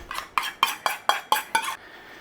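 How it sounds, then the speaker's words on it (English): A spoon scrapes and clinks rhythmically around a bowl, stirring a coleslaw dressing of apple cider vinegar, Dijon mustard and mayo, six or seven quick even strokes close up, then quiet. "let's get it all mixed in"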